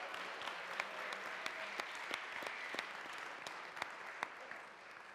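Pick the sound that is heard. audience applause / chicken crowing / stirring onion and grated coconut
audience applause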